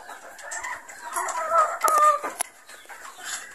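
Boston Roundhead gamefowl rooster on a game farm, a close clucking and a short crow-like call amid other birds, brief and fairly loud.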